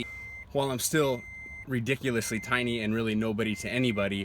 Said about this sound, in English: Sorry about the beeping, I just realized that.